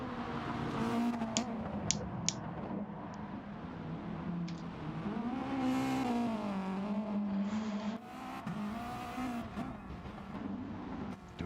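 Rally car engines from the DiRT racing game at a Colorado Springs time-attack round, a steady droning engine note rising and falling with revs, with a couple of brief sharp ticks, continuous and fairly loud with no talking.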